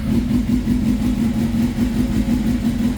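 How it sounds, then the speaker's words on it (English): A Suzuki GSX-R 600 motorcycle idles with a steady, fast-pulsing engine throb, loud and close, running evenly without revs and with no voices. "So let's start the bike."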